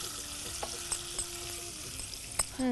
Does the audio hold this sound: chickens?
no